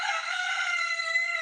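A rooster crows loud and close, holding one sustained, ringing call across the whole moment with no talking over it.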